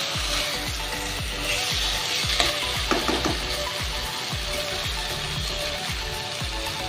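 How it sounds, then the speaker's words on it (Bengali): Potatoes fry with spices in a pan, a close, steady sizzle with rhythmic scraping as they are stirred, and no voices. "মশলাটা দিয়ে আলু কষানো হয়ে গেছে।"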